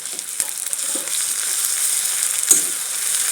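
Ginger, garlic and green chili paste frying with browned onions in a pan, a steady bright hiss of oil sizzling up close, with a few soft stirring knocks scattered through it.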